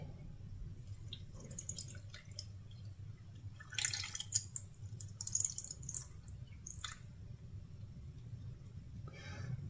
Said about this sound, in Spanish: Y ahora simplemente pues agregamos la leche.